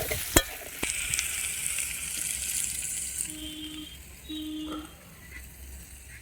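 Boiled jackfruit sizzles in hot oil in a kadai wok, a soft continuous frying hiss with a couple of sharp clinks of a utensil near the start and faint kitchen sounds behind it.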